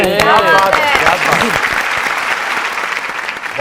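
Studio audience on a Pakistani music talk show clapping for a singer's performance, loud dense applause that starts under a host's voice and continues alone as the talk fades.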